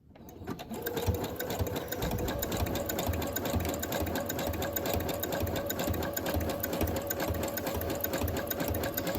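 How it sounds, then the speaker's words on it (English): Sewing machine running a zigzag stitch, wrapping thread around the edge of a writing board; a steady, close, continuous mechanical whir that starts abruptly and holds even for about nine seconds. "wrapping the edge around with fabric, or with thread, using the zigzag stitch"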